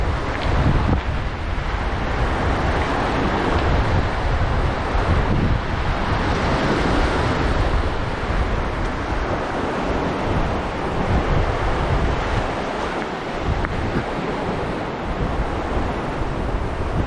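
Strong wind buffets the microphone in a loud, unbroken roar with gusty swells, heard up high at a teak wooden church, with no talking.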